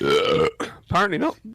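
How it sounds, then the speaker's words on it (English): A loud, drawn-out human burp sounds up close, followed by a short spoken reply. "I was burping."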